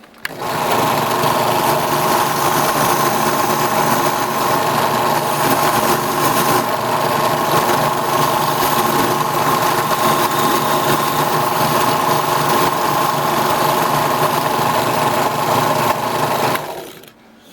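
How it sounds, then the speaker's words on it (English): Wire wheel spinning steadily as excess epoxy is cleaned off hangers, a loud continuous motor whine with grinding texture holding for about sixteen seconds before cutting off. "So I just want to show you how I clean them up. I take the wire wheel,"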